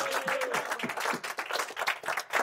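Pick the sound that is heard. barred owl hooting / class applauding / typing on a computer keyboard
class applauding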